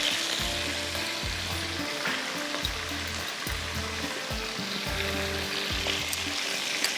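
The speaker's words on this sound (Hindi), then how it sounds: "थोड़ा सा ये फ्राई हो रहा है।" Food sizzles and fries steadily in a pan while ginger and garlic are cooked for a yogurt, egg and potato curry, with repeated rhythmic scraping or stirring pulses over a continuous hiss; no talking.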